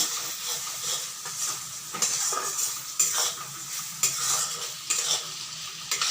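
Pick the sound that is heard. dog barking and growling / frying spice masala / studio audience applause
frying spice masala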